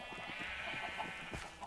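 Sheep bleat in a blocky game world's crowded pen, with a short cluster of nasal bleats over a steady ambient hum.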